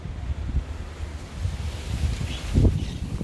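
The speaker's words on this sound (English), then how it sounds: "Very windy today." Gusty wind rumbles and buffets the microphone steadily throughout, with a stronger gust near the end and no voices.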